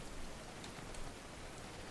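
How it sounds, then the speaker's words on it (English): Steady rain falls outside, a soft, even hiss of drops that holds without pause for the whole stretch, quiet and fairly distant, with no voices. "Rain, rain, go away."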